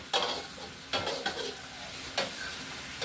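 Paco fern being stir-fried in a pan: a few loud, sudden scraping tosses separated by quieter stretches of low sizzling, close up.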